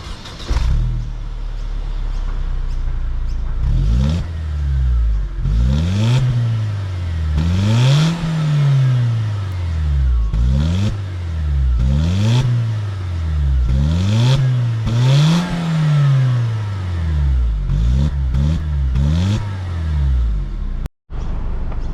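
A Mercedes-Benz SLK200 engine revs repeatedly, each rev climbing and falling in a steady rhythm, loud and close, with no talking.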